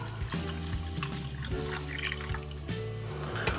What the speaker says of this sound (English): just gonna add our water here.